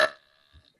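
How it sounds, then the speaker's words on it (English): A girl lets out a single loud burp in a burping contest, strong at the start and trailing off within a fraction of a second, followed by a faint low gulp. "I honestly think your burp was probably a 4, but I gave you a 6"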